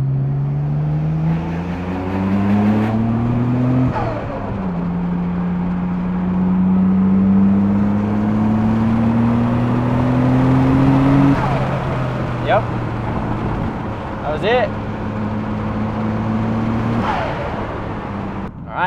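Turbocharged Toyota Supra engine pulling under rising boost, a loud continuous drone whose tone climbs steadily in stepped sweeps, with brief whooshes and chirps near the end and a voice speaking over it.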